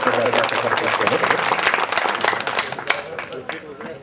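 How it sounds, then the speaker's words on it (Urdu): A crowd at an All India Mushaira poetry gathering gives a loud round of applause with sharp individual claps, while someone speaks over the clapping. "ایک بار مجھے زوردار تالیوں سے حوصلہ افزائی کرے گا"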